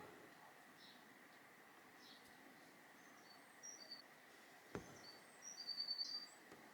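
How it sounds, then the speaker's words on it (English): Birds sing faintly outdoors on a calm day, with sparse high chirps and short trills that grow a little more frequent toward the end over a quiet background hiss. "You hear the birds because it's another lovely day here"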